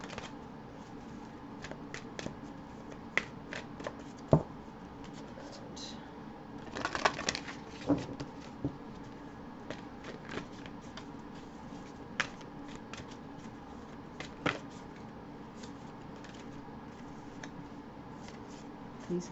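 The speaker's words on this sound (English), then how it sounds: "let's pull a card here from angels and ancestors" Tarot and oracle cards being shuffled and drawn: soft, continuous riffling and flicking close by, with scattered sharp snaps of cards hitting or slipping, fairly quiet throughout.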